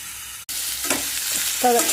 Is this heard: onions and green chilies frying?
yes